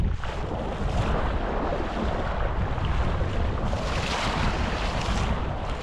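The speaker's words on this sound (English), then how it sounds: "As you can see, the water is still pulling back with quite a pace actually" Tidal water rushing fast out through a main channel, a dense, steady roar of surging water and wind buffeting the microphone, loud and continuous with no voices.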